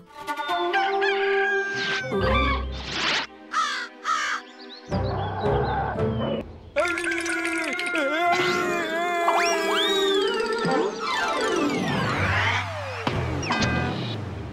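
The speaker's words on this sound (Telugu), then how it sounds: "కోడి" A rooster crows repeatedly in a Chhota Bheem animated cartoon, with its clucks and calls layered over busy music and sound effects throughout.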